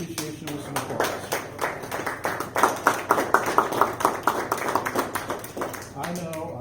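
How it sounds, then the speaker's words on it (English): Applause from the audience at a Vietnam Veterans Day pinning ceremony: steady, fairly close hand claps in a quick rhythm that swell in the middle and ease off toward the end. "why not show her a little bit of appreciation with some applause"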